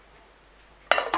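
A short metallic clink as a lid settles onto a pot of tomato stew, after a moment of near silence.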